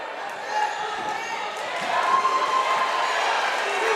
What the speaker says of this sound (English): big crowd on hand. Rambunctious crowd on hand